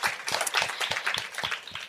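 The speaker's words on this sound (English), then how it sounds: "Emery, round of applause for you here." A small audience at a live podcast event claps briefly, a scattered patter of hands that is moderately loud and close.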